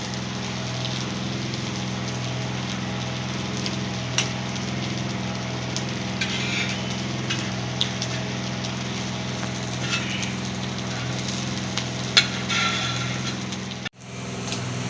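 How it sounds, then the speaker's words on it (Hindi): Kebabs for a burger sizzle steadily on the second side in a hot pan, a continuous close frying hiss with faint scattered pops throughout and a brief dropout near the end. "अब दूसरी तरफ से फ्राई ही कर रही हैं अम्मी"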